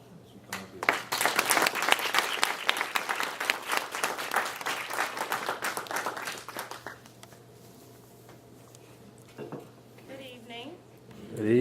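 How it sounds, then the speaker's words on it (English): An audience claps as a speaker walks onto the stage at an event: a burst of dense applause for about seven seconds that fades out, followed by quieter room noise and a few faint sounds. "I hope y'all give her a great round of applause as she comes up here."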